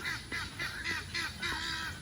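A cluster of chickens crowd along a fence waiting for the gate to open, giving repeated loud squawking, honking calls in bursts of about four per second, close by with no talk.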